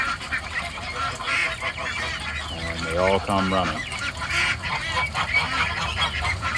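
Ducks and geese honk and quack at feeding time, a loud mixed flock close by with a burst of goose honking in the middle, while a person talks over it.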